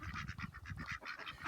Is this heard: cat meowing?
no